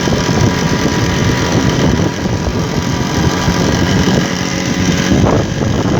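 Steady engine drone and wind rush from a Vespa scooter cruising at a relaxed 30–40 km/h through the city streets of Solo, continuous and close throughout with no pauses.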